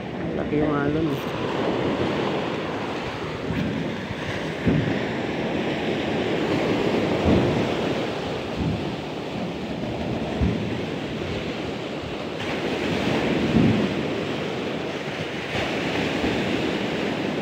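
Large ocean waves break along the shore on a fishing trip, a continuous rolling roar with heavier surges every few seconds, loud and near, mixed with gusty wind.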